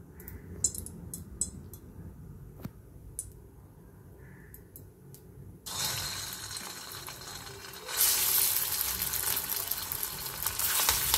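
Chicken kofta balls frying in hot oil four at a time, a quiet start with a few faint clinks, then a steady hiss that swells and grows louder and brighter partway through, close up, with no talking.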